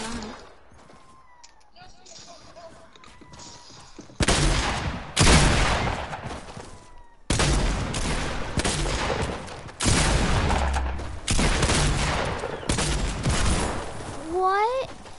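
Heavy video game gunshots boom in several loud bursts, separated by short quieter gaps, with a player talking over them.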